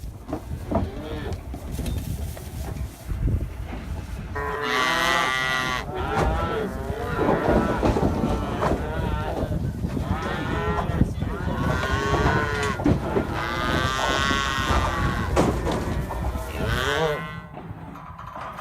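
Cattle on a farm with cows and calves at pasture, giving loud, drawn-out moos that overlap one another almost continuously, some close and some farther off, over a rough outdoor background.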